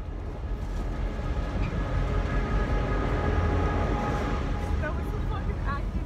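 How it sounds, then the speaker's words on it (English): A train passes close by, a loud, continuous rumble of wheels and rail noise with occasional metallic squeals, while voices mix in with the passing cars. "That was a fucking active train, bro."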